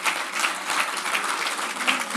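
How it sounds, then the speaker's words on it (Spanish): A church congregation applauds during a sermon, steady dense clapping filling the room for a couple of seconds. "Yo creo que le debe un aplauso al Señor."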